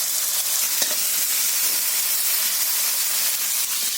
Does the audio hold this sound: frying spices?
yes